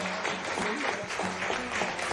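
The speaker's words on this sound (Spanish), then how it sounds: "Dele un fuerte aplauso, papito Dios." A church congregation applauds during a service, a dense continuous wash of clapping with some voices mixed in, moderately loud throughout.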